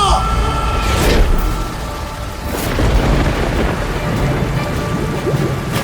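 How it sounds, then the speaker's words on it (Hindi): A thunderstorm with steady rain hissing and rumbling low, broken by two sharp thunder cracks about a second and a half apart, each followed by rolling rumble, loud and close throughout. "अचानक जोर की बिजली कड़की"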